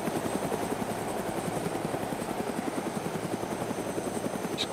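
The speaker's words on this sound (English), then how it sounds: "Chopper to the left, chopper left." A helicopter in DayZ on the Namalsk map flies nearby, its rotor chopping in a fast, steady pulse that stays loud and even throughout, with no talk.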